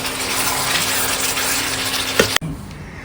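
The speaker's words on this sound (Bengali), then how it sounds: "এবারে জল দিয়ে দেবো" Water poured into a home-cooked chicken curry (jhol) simmering in a pot, a steady broadband gush lasting over two seconds that cuts off abruptly, leaving quieter kitchen background.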